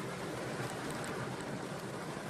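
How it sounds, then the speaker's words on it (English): Rain falls outside on a morning, making a steady, even hiss throughout, soft and without distinct drops, with no voices. "Probably hear the rain."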